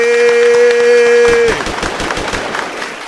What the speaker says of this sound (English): I don't even know if the gunshots is appropriate